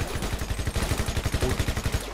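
Rapid automatic gunfire in GTA 5 as a player shoots at a monster, a fast even burst of close, loud shots with no talk over it.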